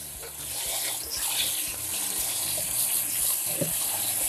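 Cold tap water runs in a steady gushing stream over fettuccine pasta in a colander, a close, continuous splashing rush with small clinks near the end.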